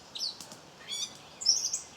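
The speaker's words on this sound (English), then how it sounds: "God, that bird is really loud." A loud bird chirps close by at a campsite, with short bright tweets in bursts, one near the start, a trill in the middle and a louder flurry toward the end.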